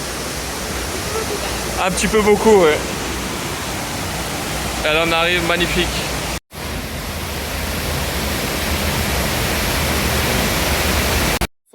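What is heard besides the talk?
waterfall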